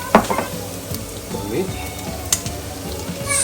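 Garlic sizzles in a hot pan for Kerala-style beef fry, a steady crackling hiss with a few sharp pops and stirring scrapes, close up and without talk.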